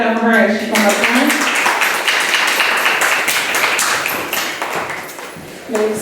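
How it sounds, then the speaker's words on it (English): Audience applause fills an evening event hall as a survivor-story monologue host walks up front: dense, steady clapping that runs for several seconds, with a voice speaking briefly at the start and again at the very end. "So let's clap it up for her as she comes up front."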